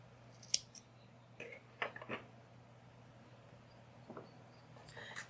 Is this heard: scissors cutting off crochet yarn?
yes